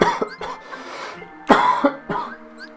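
Several harsh coughs burst out close up in two clusters, with short pauses between the fits, from a person playing Kingdom Hearts 3D: Dream Drop Distance.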